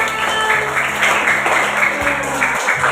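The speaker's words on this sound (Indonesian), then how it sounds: "Oke, tepuk tangan untuk semuanya" Classroom applause from students standing together, brisk dense clapping over a steady hum, continuing evenly for a few seconds.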